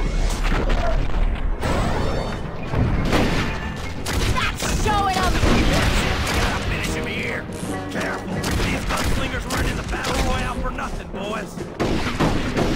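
Gunfire in the Western video game Red Dead Revolver: loud, rapid bursts of shots and heavy booms packed closely together, with brief pauses between volleys.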